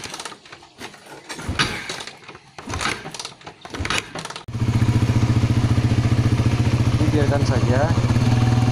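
A motorcycle with a weak dry battery is kick-started with its kick lever: a few clattering thumps, then the engine catches and settles into a steady, close idle. Someone talks during the kicking.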